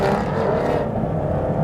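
An Aston Martin Vantage GT12 with its naturally aspirated V12 holds a loud, sustained engine drone close by, a steady high-revving roar with no voices over it.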